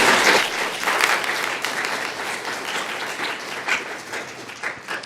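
A School Committee audience at Quincy City Hall breaks into dense, sustained applause from many hands, loud at first and then thinning slightly while staying steady to the end.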